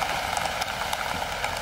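Steady rain falling on surfaces outdoors at a watermelon harvest, a soft continuous patter with scattered louder drops, fairly faint and without talk.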